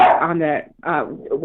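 A dog barks twice in quick succession, close and loud, with tonal, whiny yelps mixed in and little else around it.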